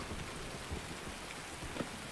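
Rain falls steadily in the Escape from Tarkov video game, a constant broadband hiss of drops with a low, soft rumble of distant thunder rolling underneath and a brief sharper knock near the end.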